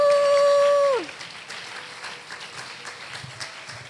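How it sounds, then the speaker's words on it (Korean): In a young adults' church worship gathering, a held electronic tone slides down and fades. Soft, scattered applause then welcomes new members and carries on at a modest level. "여러분 큰 박수로 환영해 주세요"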